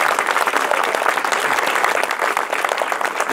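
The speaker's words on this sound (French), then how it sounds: "vous pouvez vraiment l'applaudir" An audience at a political rally in Pégomas gives Michel a dense, steady round of applause, loud and continuous from start to finish with no talk over it.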